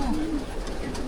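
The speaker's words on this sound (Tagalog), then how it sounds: "Ang daming kalapati." Pigeons coo softly in a crowded loft, a short low warbling call near the start over steady background noise from the birds and room.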